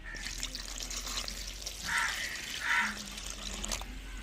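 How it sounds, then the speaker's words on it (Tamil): Water poured into a cooking pot of ingredients that include chopped tomato, in a home kitchen, giving a couple of short, close splashing bursts over low background noise. "தேவையான தண்ணி சேர்த்துக்குருவோங்க."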